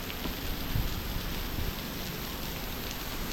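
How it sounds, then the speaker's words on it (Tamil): Spray and splashing water from the Irachilpara waterfall in Kanthaloor, falling from a great height and misting the air, a steady broadband rush with no talk. "மேலேருந்து அவ்வளோ ஹைட்லேருந்து விழுறது வந்து சாரல் அடிக்கிற மாதிரி தான் இருக்குது"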